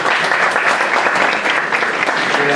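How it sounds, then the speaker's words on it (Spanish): Steady, full applause from an audience at a university event on anti-money-laundering and terrorist-financing prevention, welcoming a speaker with dense clapping that stays loud and even throughout. "Un aplauso para él, por favor."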